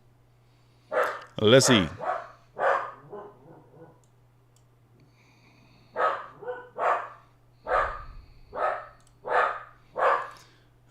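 A dog, male, barks repeatedly in short bursts at a live Nasdaq futures trading setup, the yaps fairly close and spread across the clip, with someone speaking briefly and a steady low hum underneath.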